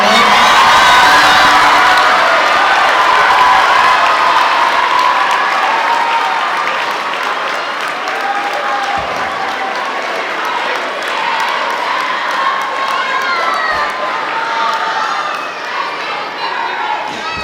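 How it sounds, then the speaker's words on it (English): Crowd at an awards ceremony cheers and applauds loudly for an honoree, a dense wash of clapping with whoops and shouts, strongest at first and then settling into steady applause that runs throughout. "Now everybody get up and help me cheer on Jenna Nolan."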